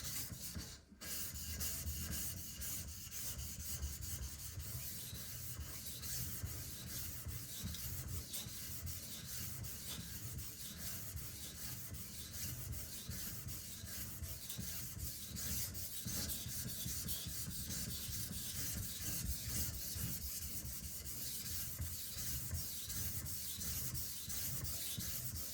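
A Karaku AS Gyuto 210mm chef's knife is sharpened and thinned on a whetstone, giving a steady, continuous gritty rubbing and scraping in close, even strokes for the whole stretch with no talking.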